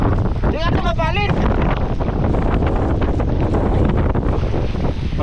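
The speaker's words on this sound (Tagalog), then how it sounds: "malakas yung ulan" Strong storm wind buffets the microphone at sea beside a small fishing boat, a loud continuous roar with rain, while a voice briefly speaks near the start.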